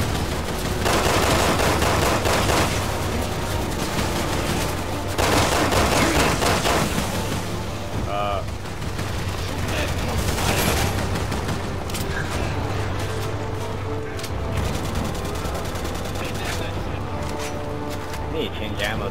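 Rapid automatic gunfire and impacts from Resident Evil 6 co-op gameplay, with game music underneath and players talking over the shooting throughout.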